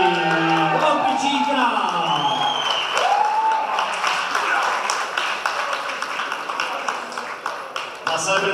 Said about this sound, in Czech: Na Celebrity Boxing Place váš velký aplaus určitě zaslouží